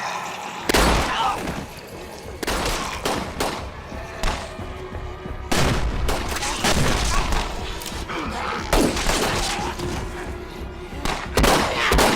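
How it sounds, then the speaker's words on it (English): Rapid gunfire from a tense scene in The Walking Dead, with bursts of loud, close shots and heavy thuds repeating across several seconds over a dense background of screams and commotion. "So when Shane starts firing, he opens his mouth"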